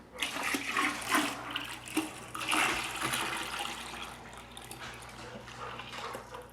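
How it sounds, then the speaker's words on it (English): Home-brewed beer wort pours from a kettle into a graduated plastic bucket, a steady broadband liquid rush with gurgling surges, fairly close and continuous throughout with no talking. "we're ready to pour the wort into the bucket."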